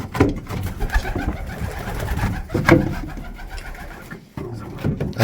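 Pigeons coo repeatedly nearby in soft, throaty bursts at a pigeon loft during the young-bird season, mixed with fluttering and scuffling sounds from the birds.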